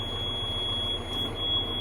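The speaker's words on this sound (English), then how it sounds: "Stop beeping at me, always beeping." A tractor's warning beeper sounds during field work with discs, a steady high tone running continuously above low engine rumble, fairly close.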